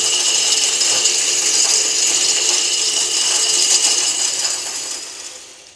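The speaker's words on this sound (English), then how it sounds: "Let's spin it on medium, see what kind of radius we get out of that." Game feeder spinner on medium setting flinging corn kernels, a dense continuous rattling whir of kernels and motor that runs steadily, then tapers off as the spin winds down.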